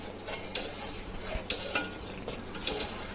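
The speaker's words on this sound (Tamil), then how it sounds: "இப்போ இதை அடுப்பில் வச்சு நல்லா கை விடாமல் கலந்து விட்டுக்கிட்டே இருந்து ஒரு 10 நிமிஷம் நல்லா வேக வச்சு எடுக்கலாம்" A spoon stirs a millet health mix in a pan on the stove, with quick scraping strokes and light clinks against the metal over a soft, steady sizzle, close and heard with no voices.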